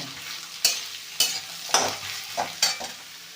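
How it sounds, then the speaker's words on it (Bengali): Radish leaves with green chili fried in a pan, with several sharp stirring scrapes spaced about half a second apart over a quiet sizzle. "ভালো করে ভেজে নেব"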